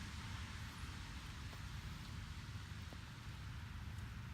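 Steady rain falling outdoors, a constant soft wash of noise without a break, faint and even throughout with no voices.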